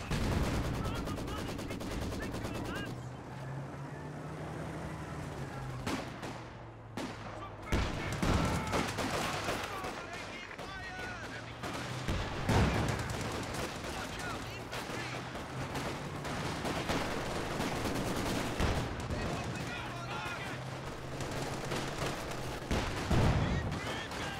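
Sustained gunfire and battle noise from the Company of Heroes 2 video game, including a Maxim machine gun, with dense rattling bursts and booms continuing throughout, loud and layered.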